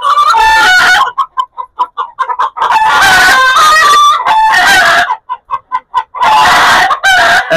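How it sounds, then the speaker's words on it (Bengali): Egyptian Fayoumi chickens, a rooster with hens, cluck and cackle loudly and close up in bursts, with short choppy clucks between longer raucous calls. "একটা মোরগ চারটা মুরগি"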